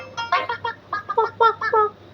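Voices imitate a chicken in a nursery lesson on animal sounds, giving a rhythmic series of short clucking syllables, close and fairly loud, about a dozen in quick succession.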